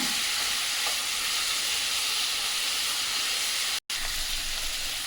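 Onions browning in hot oil give a loud, steady sizzle and hiss, with faint scrapes from a ladle stirring them; the frying continues without pause apart from one brief cut.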